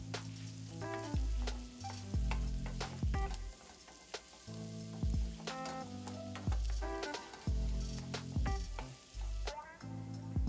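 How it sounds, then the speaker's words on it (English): Chopped garlic sizzles in a pan while it is stirred, with a busy sizzle, scattered clicks and scrapes of the utensil, and steady low music underneath, close and fairly loud. "Then add in your chopped garlic and stir it through for about 1 minute."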